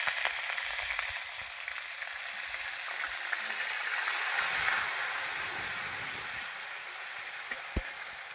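Ground cumin, ginger and garlic paste fries in a pan with a close, steady sizzle, brightening in the middle and broken by occasional stirring scrapes and a sharp clack near the end.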